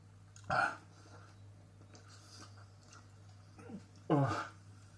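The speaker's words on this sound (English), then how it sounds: "I've got hiccups." Hiccups while eating very hot food during an eating challenge, two sharp close hiccups a few seconds apart in a quiet room, with faint mouth and breathing sounds between.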